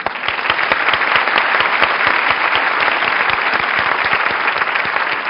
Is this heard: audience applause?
yes